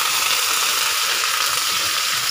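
Onions and curry leaves sizzle loudly in a pan, a dense continuous hiss with faint stirring ticks, close and unbroken, no voices.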